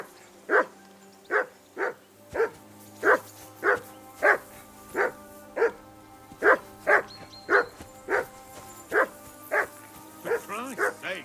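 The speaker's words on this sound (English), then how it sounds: "Call off that damn dog before he wolfs down the last of our meat" A hound in Kingdom Come: Deliverance II barks loudly and close by, about fifteen sharp barks in a steady, evenly spaced rhythm, ending in a quicker flurry.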